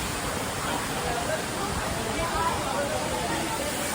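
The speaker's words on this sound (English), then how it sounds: "Here's the waterfall." Waterfall beside the road from Phuentsholing to Thimphu in Bhutan, a steady broadband roar of falling water, close and constant, with faint voices in the background.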